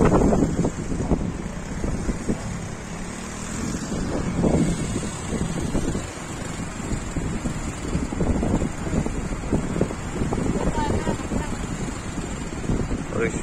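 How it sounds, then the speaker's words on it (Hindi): Fast-flowing floodwater rushing under high pressure across a broken road, a loud, continuous roaring wash mixed with heavy wind buffeting on the microphone, close and steady throughout. "पानी का काफी प्रेशर है, काफी हाई स्पीड में चल रहा है और बहुत सारा पानी है।"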